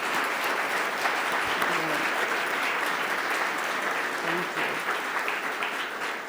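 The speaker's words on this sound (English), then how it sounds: "one really quick round of applause for our panelists" Sustained audience applause at a religious leaders' forum, dense steady clapping from a crowd that holds at an even level for the whole stretch, with no voices over it.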